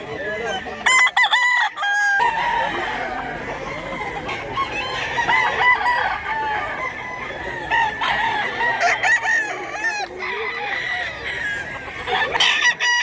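A rooster, a year-old fighting cock in Mantalongon, Barili, Cebu, crows repeatedly and loudly up close, with clucks and other fowl calling around it throughout.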